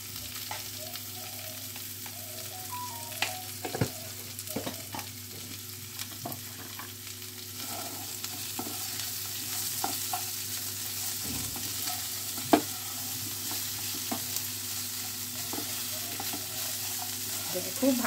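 Cauliflower florets and potatoes sizzle steadily in a pan, a continuous frying hiss overlaid with scattered spatula scrapes and small clicks as the pieces are stirred, close and moderately loud.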